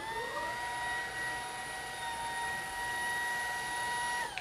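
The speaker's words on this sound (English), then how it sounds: "So I'm interested to see if this vacuum scatters. Low power again." Dibea F20 Pro cordless vacuum cleaner running on low power, a steady high motor whine with a constant airflow hiss that ramps up at the start and winds down at the end, close and alone.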